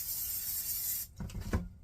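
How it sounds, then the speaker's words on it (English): Cooking spray hisses steadily into a casserole dish for about a second, a close, bright continuous spray that cuts off abruptly, followed by a few soft clunks of the can and dish. "now I'm going to spray this casserole dish"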